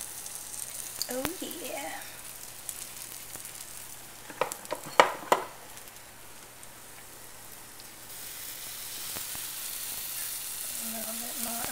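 Hoe cake batter sizzles steadily on a hot griddle, a soft continuous hiss with a few louder clatters midway, while a voice speaks briefly.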